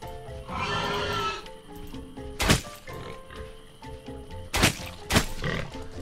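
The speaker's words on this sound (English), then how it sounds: "Damn pigs." Pigs in the survival game REND grunt and oink over a busy game soundscape, joined by a few loud, sharp impact bangs.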